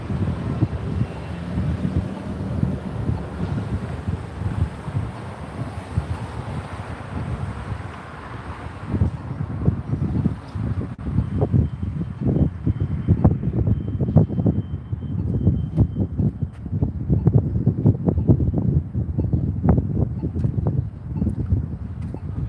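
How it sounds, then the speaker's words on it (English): Gusty outdoor wind buffets an earbud microphone, producing continuous low rumbling and crackling bursts that grow choppier and more irregular over about twenty seconds, with no voices over it. "Bit of wind picking up here."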